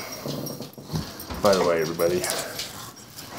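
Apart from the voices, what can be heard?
dog growling and whimpering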